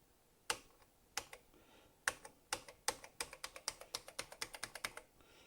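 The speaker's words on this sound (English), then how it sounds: "does the keyboard actually work?" Keys clack on a Thomson TO8D home computer keyboard, a few scattered presses followed by a faster run of crisp, evenly spaced taps, close and clear, with no talking.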